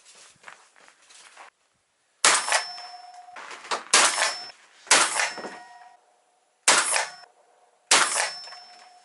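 Several loud, sharp shotgun blasts from an MP-155 firing slugs at a 100-metre target, one at a time at spaced intervals, each followed by a ringing metallic clang and brief echo.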